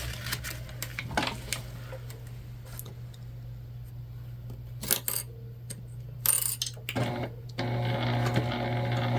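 A Juki sewing machine stitches the remaining sides of a zipper pocket closed on a structured bag, with short bursts of mechanical whirring and clicking separated by pauses and a steady hum underneath.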